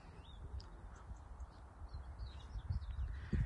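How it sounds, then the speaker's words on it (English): Crows and other birds call faintly from a distance, scattered caws and chirps rising over low outdoor rumble and wind noise. "You can hear the birds faintly."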